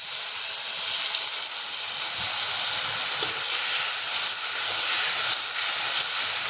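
Spices frying in a pan with a splash of water added, giving a continuous loud steamy hiss and sizzle with faint pops and stirring scrapes, steady throughout without talking.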